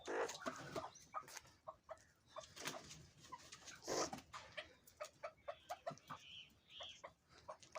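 A hen clucks in a string of short, soft calls with irregular pauses, heard close by in a quiet setting without other sounds.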